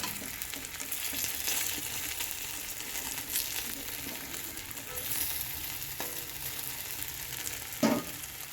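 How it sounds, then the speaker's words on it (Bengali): Raw banana slices frying in oil give a steady, soft sizzle with occasional light scraping and a clink near the end. "তো বেশ লাল করে ভেজে দু পিঠ ভাজা হয়ে গেছে"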